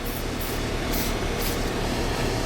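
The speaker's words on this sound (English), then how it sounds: "spray it with some amount of D40" WD-40 lubricant is sprayed from a can onto a Mazda 626 transmission part in a workshop. Several short, hissing spray bursts repeat at a steady rhythm over a constant background hum.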